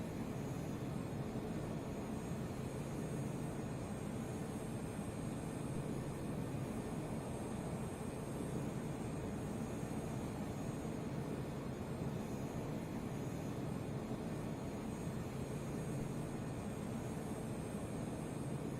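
A To-201 Shikra jet lands in Arma 3, its engine a steady, loud broadband roar that holds constant and unbroken throughout.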